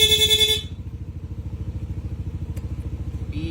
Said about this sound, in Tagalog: sa busina ni Sir, ang ginamit po natin, Pia horn